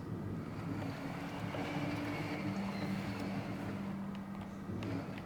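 A worn-out vehicle engine in the video game Caravan SandWitch runs with a steady, rough low drone and a faint uneven hum, continuous and fairly loud throughout, with no speech over it.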